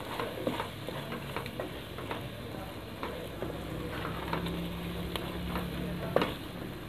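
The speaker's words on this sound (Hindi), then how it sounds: "कीमे को यहाँ पे आपने तकरीबन 5 मिनट के लिए अच्छी तरह से भून लेना है" Minced meat (keema) frying with black pepper and garam masala for an egg keema dish: a soft, steady sizzle broken by light clicks and scrapes as it is stirred.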